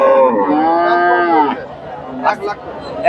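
A crossbred Friesian dairy cow at a cattle market moos loudly and close by in one long drawn-out call, followed by faint crowd chatter and brief knocks.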